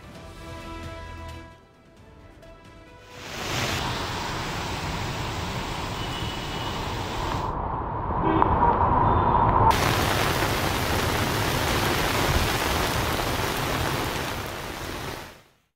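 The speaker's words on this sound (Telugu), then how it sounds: "భారీ వర్షం పడుతోంది" Heavy rain pours down in Hyderabad as a steady, loud wash of broadband hiss that fills nearly the whole stretch. It fades out sharply at the end. No voices are heard.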